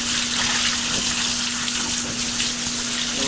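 Tap water gushes hard in a kitchen as chicken salad is strained, a loud, continuous, close spray and splash under a steady hum, with no talking.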